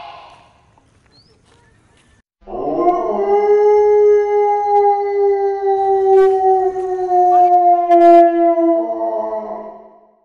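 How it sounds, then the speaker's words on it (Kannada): A long, loud drawn-out dog howl rises after a quiet opening, holding a steady wavering tone for several seconds before tapering off, heard close on a street scene in a Kannada stage comedy. "ಇಷ್ಟೊತ್ತು ಈ ಬೀದಿಲಿ ಯಾವ ನಾಯಿನೂ ಇರಲಿಲ್ಲ"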